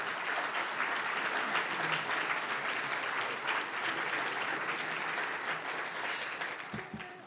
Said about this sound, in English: I would love for them to stand so we can give them a round of applause.